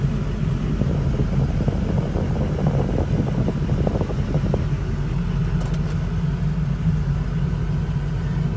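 A 2006 Ford F-250 Super Duty with a Power Stroke diesel engine rumbles loudly and steadily, heard from close by as it does a burnout on gravel, with a brief crunch of stones midway and no talking.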